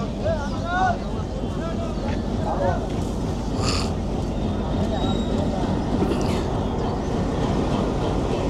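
Locomotive of the Tungipara Express standing at Pangsha railway station in Bangladesh gives a steady, loud engine rumble that runs through the whole stretch while someone talks over it.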